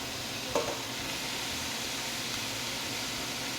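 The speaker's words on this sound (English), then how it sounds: "let's go in with our minced meat" Minced beef frying in a pan with a steady sizzle, a brief stir or scrape near the start, the rest a constant low hiss.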